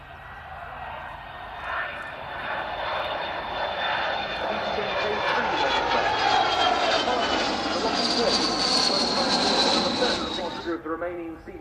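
Aircraft engines roar as an RAF flypast of a Vickers VC-10, a Lockheed L-1011 TriStar and an A330 Voyager passes, rising from a distant rumble to a loud whining sweep overhead, then cutting off sharply.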